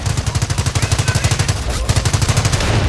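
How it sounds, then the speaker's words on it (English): A machine gun emplacement in the Company of Heroes game firing at enemy troops: a loud, continuous rapid burst of evenly spaced shots with one brief pause, close and alone. "The MG emplacement is suppressing the enemy troops."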